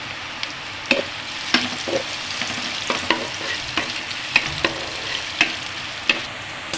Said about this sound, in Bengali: এখন আমি ওই তেলের মধ্যে পেঁয়াজটা করে নিয়ে নেব